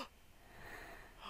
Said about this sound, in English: I can hear breathing!